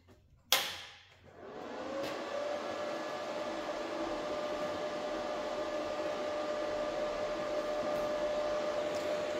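An inverter powering a water-electrolysis hydrogen generator switches on with a sharp click, then settles into a steady, faint electrical hum with a thin whine, with no talk.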